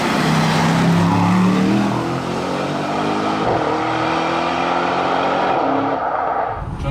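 An Aston Martin DBX 707, a two-tonne high-performance SUV, drives at speed with a steady loud engine drone and shifting gear tones, heard from inside the cabin over rushing road and wind noise.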